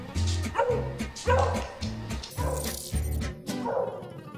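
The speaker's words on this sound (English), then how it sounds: "This is my dog." A dog barks in a home setting, a series of rhythmic, fairly loud close-up barks mixed with yips and a short whimper.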